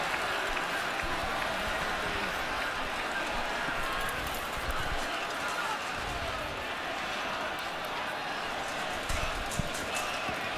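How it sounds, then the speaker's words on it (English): Dense, steady roar of a large football stadium crowd at a CFL game between the Toronto Argonauts and Hamilton Tiger-Cats, loud and continuous across the whole stretch with no clear individual voices. "The noise of this crowd being an issue for the Argo offense."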